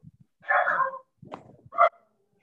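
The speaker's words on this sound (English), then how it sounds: "I also have a dog barking" A dog barks over an online group call, giving a few sharp, fairly close barks in quick bursts with short gaps between them, heard on its own with no talk.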